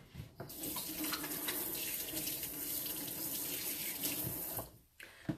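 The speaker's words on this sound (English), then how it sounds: "And I'm going to wash my hands." A sink tap runs in a steady close stream as hands are washed beneath it, water splashing continuously for several seconds before shutting off with a brief gap and a last splash.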